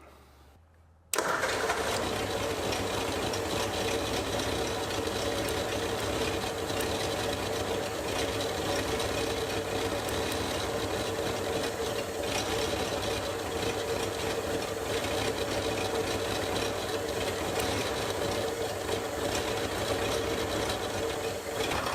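A barn-find 1938 Ford flathead engine starts up and runs rough, missing on the cylinders of one bank, giving a loud, steady, ragged clatter close by that carries on without a break after a brief quiet start.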